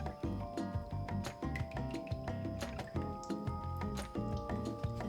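Coconut milk, about 200 ml, poured for a curry, making faint, wet glugging and dripping sounds in uneven bursts with a few light clinks.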